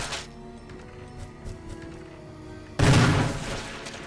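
Gunshot in the video game Resident Evil, a sudden loud blast after a quiet stretch of faint sounds, ringing out and decaying over about a second.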